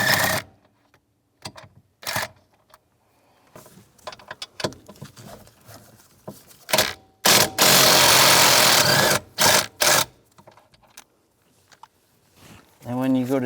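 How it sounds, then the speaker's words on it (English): A 15mm socket on a ratchet backs out the steering column nuts of a 2007-2014 Cadillac Escalade, with scattered clicks and one sustained loud burst of ratcheting up close, and quiet gaps in between. "There's 4 nuts holding the rest of the steering column in. You want to take those out. Use a 15mm socket."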